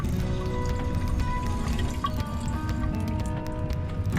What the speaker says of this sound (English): So running water is as well right inside your cabinet, which is quite handy in my opinion.